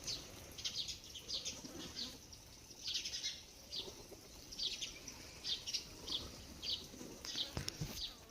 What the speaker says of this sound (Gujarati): અને જો પાછા કબૂતર આવી ગયા